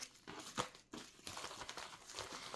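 A padded bubble envelope holding a cross-stitch kit is opened and handled, giving quiet, close crinkling and rustling plastic with a few sharper crackles and a brief pause.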